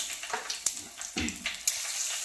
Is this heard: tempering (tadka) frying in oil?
yes